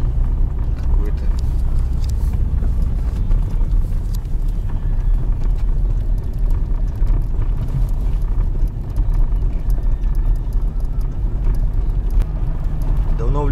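A car rumbles steadily along a rough, rutted forest road in the countryside, engine and tyre noise loud and continuous throughout, with occasional knocks from the bumpy track.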